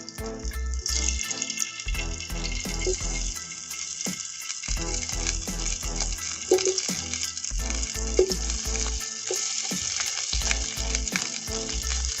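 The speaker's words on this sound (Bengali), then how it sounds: "সিদ্ধ করা আলুগুলোকে ভেজে নেব" Steady, loud sizzling of boiled potatoes frying in hot oil, with occasional clinks and stirring scrapes throughout, no voices.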